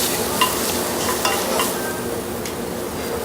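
Sliced fennel and artichoke cook in a pan with a steady, fairly loud hiss and sizzle, plus a few light stirring clinks close by.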